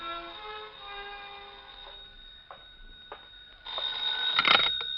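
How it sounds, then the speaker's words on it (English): An old-fashioned telephone bell rings steadily at moderate volume in a radio detective drama, with a few mechanical clicks and a louder burst of ringing near the end, and no voices. "the phone rang"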